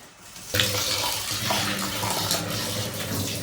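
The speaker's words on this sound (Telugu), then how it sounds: "ఇప్పుడు మళ్ళీ మంచి నీళ్ళతో కడుక్కోవాలి" Running tap water rinsing soaked lentils for Telangana-style garelu, a steady close splashing rush that starts abruptly after a brief quiet moment and continues alone without talk.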